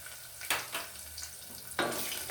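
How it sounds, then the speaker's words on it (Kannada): Chopped onion, green chili and garlic fry in oil in a pan, a soft sizzle broken by two louder bursts of hissing as the pan is stirred. "ಇವು ಎಣ್ಣೆಯಲ್ಲಿ ಚೆನ್ನಾಗಿ ಫ್ರೈ ಆಗಬೇಕು."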